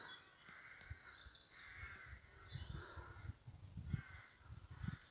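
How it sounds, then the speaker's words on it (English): Rooks cawing outdoors near churchyards in Cornwall at sunset, at a moderate distance, several harsh calls overlapping in irregular bursts over a soft background hum. "I can hear the crows. I hope it comes out on this video. The rooks, rather."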